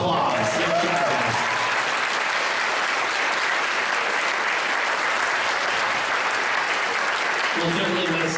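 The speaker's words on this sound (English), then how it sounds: "Can we give them one more round of applause?" Dense, sustained clapping from an audience at a high school band concert honors trombone players, loud and even throughout, with a voice talking briefly at the start and end.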